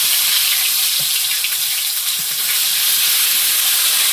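Ginger paste, panch phoron and bay leaf sizzle steadily in hot oil, a loud continuous hiss with a few faint clinks and stirring scrapes, no voices.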